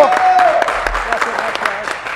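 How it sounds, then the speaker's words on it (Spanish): Studio audience applauding on a live Spanish-language television variety show, a short burst of dense clapping with a faint whistle early on, fading as voices begin. "le damos un aplauso al pala, por favor, bravo"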